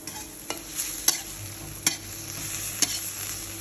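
Shrimp and squid are stir-fried in a pan with a splash of water, a soft continuous sizzle broken by several sharp scrapes and clicks of the spatula against the pan.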